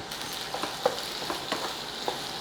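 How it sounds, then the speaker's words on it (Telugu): Onions fry in hot oil in a pan, a continuous close sizzle with scattered crackles and soft scraping as they are stirred. "ఆయిల్ వేసి ఆనియన్స్ వేయించి పక్కకు పెడదాం"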